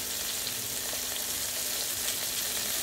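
Okra for crispy bhindi fries in a pan with a steady, even sizzle and soft crackling, moderately loud and with no voices.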